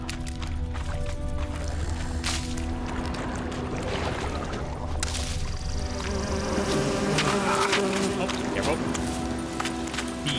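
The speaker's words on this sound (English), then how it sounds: "Bees." Bees buzz in The Witcher 3 video game, a continuous droning hum mixed with other game sounds throughout.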